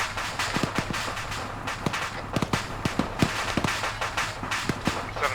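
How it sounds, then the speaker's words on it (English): AK rifle gunfire in the ArmA 3 video game, sharp scattered shots popping irregularly over a steady background rumble, with a few quick bursts close together. "I'm hearing AK fires south-southwest, just outside the Hestos"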